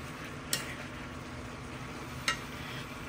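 Adobong kangkong, water spinach adobo, sizzles in a frying pan while being stirred, a low steady fry with two sharp utensil scrapes against the pan.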